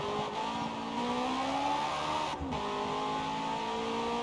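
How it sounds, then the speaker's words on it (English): A race car in Forza Motorsport on the Fujimi Kaido course, its engine droning at full throttle with a steadily rising pitch and a brief gear-change dip, loud and continuous with no talk. "I was flooring it in third and it wasn't going anywhere."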